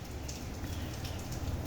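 Rain falling in Recife, Brazil: a steady, dense hiss of drops on surfaces, uniform and moderately loud throughout the short stretch, with no voices.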